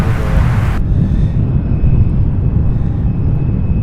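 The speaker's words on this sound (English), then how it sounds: "We have a Hercules C-130, you guys. It is inbound." Lockheed C-130 Hercules turboprop inbound, a loud rumbling low drone that holds steady throughout, with a short burst of brighter noise at the very start.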